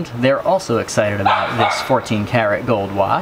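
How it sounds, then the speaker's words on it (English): Dogs yip and bark in the background of a room where gold jewelry and a 14 karat gold watch from an estate sale are being examined, their excited cries mixed in with someone talking steadily over them. "excuse the dogs in the background"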